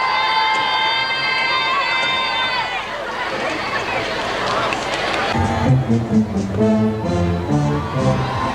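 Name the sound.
flag-waving crowds cheering for the Queen in Paisley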